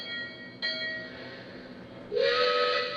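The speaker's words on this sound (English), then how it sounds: "blow the whistle." A steady locomotive engine rumble with a sustained bell tone in a train simulator game on iPad, then a loud train whistle blasts near the end and holds.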